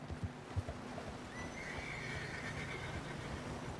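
A horse in the Red Dead Redemption 2 video game gives a long rising whinny in the middle, after a few soft, dull hoof thuds at the start, all close and clear over a quiet outdoor background with no talking.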